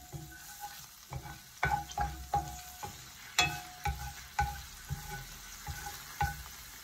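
Minced garlic stirred in hot cooking oil in a pan for a Filipino gisa of sautéed string beans with beef, giving repeated spatula scrapes and clacks over a low steady sizzle, close and clear with no talking.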